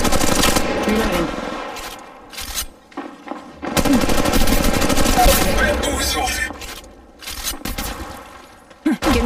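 Automatic gunfire from a mobile Apex Legends match on Android, with dense, loud bursts of shots running almost nonstop through most of the stretch, short gaps between volleys and faint voice chatter underneath.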